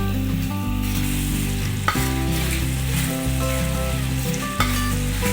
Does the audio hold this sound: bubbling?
no